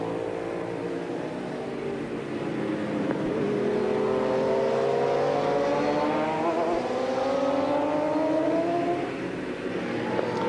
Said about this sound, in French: superbe attaque là de Miguel Duhamel, le Canadien, au guidon de la Honda d'usine qui occupe la première place de ce 61e bol d'or